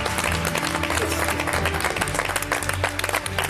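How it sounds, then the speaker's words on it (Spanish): A television studio audience bursts into steady, dense applause that fills the room, with a voice briefly speaking over it. "Un fuerte aplauso para David."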